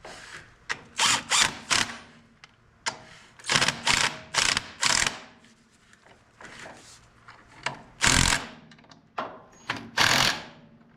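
A ratcheting socket tool works bolts on the PTO clutch of an Oliver Super 88 tractor, heard close up in a series of quick buzzing bursts separated by pauses.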